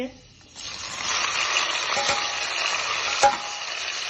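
Tomato and ginger sizzle in a hot pan with cumin seeds, a steady loud frying hiss that starts after a brief quiet moment, with a sharp stirring clink partway through.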